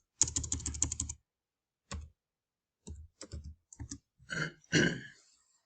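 Typing a website address on a computer keyboard: a fast run of crisp clicks, then separate keystrokes in small bursts after pauses, close and alone with no talking.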